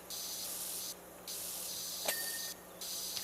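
A pressure washer sprays in PowerWash Simulator 2, a steady hiss broken by short pauses, with a small click and a brief tone partway through.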